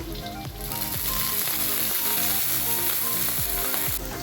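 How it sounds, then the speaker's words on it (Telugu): Capsicum sizzles and fries steadily in a hot pan for idli Manchuria, a dense continuous crackle lasting throughout with soft background music underneath. "దీన్ని కూడా కొద్దిగా ఫ్రై చేసుకుందాం"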